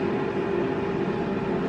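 A steady mechanical hum with a constant low drone and fan-like whoosh, unchanging and moderately loud over the short stretch.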